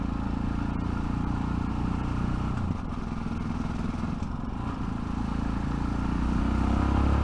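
A Yamaha Ténéré 700 (T7) motorcycle engine pulls under throttle with a steady, low droning rumble. It holds at an even level, swells slightly near the end and sits over constant wind noise, with no speech.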